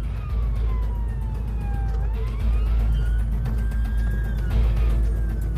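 A police siren wails with slow rising and falling pitch over a constant low road and engine rumble, sustained throughout.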